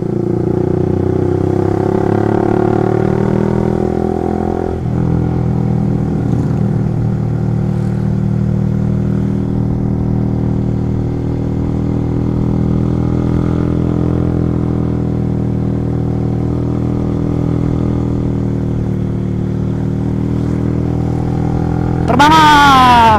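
A motorcycle rides fast along a road, its engine a loud continuous drone with shifting pitch and rushing wind, and a brief sharp rising whine near the end.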